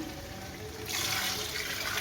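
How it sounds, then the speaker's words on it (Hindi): Water poured into a pot of boiled chickpeas and rice for chana pulao: a soft hiss of running liquid that swells and grows louder about halfway through, close by and alone. "देखिए, अब हम पानी डालेंगे।"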